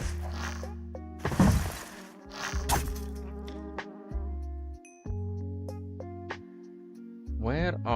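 Bees buzz around a hive in the video game RLCraft, a near, droning hum in sustained tones that shift pitch and start and stop repeatedly, with bursts of voice over it.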